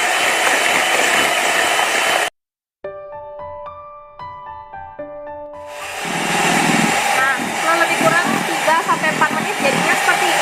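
An electric mixer whips sponge cake batter for a bread-style cake, a steady loud whirring drone that cuts out briefly, gives way to a few soft tonal beeps, then returns with a rattly beating texture.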